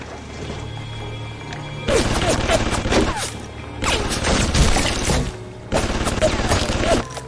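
Automated turrets firing in BioShock Remastered, set in the underwater city of Rapture: three loud bursts of rapid clattering shots, each lasting about a second or more, separated by brief lulls over a low hum.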